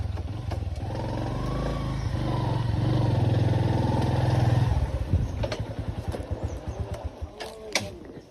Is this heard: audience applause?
no